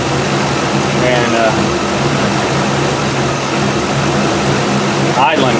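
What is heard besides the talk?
5.3 V8 engine idling after throttle body replacement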